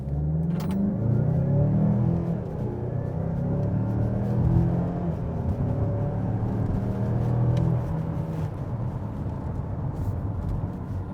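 A 2022 Mazda CX-5 turbo with all-wheel drive accelerating hard from standstill toward 100 km/h, its engine a loud, steady rumbling drone that climbs and eases through gear changes, heard from inside the cabin with no talking.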